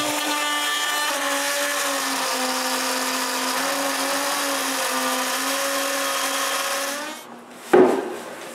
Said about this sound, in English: use its straight edge to guide the router, and cut what I didn't cut before